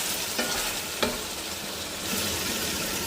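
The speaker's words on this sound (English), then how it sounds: "We are going to let it fry now until the surface of the saucepan begins to brown" Beef frying in a saucepan gives a steady, close sizzle, with a couple of brief clinks from stirring breaking through the continuous hiss.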